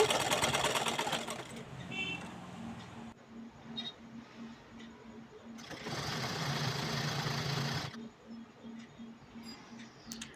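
A sewing machine stitches a border onto a cloth sheet with a fast, steady mechanical rattle and ticking that stops and starts in bursts, heard close up with faint talking in the background.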